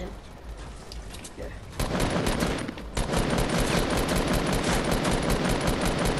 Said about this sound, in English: I'm gonna shoot you in the butt.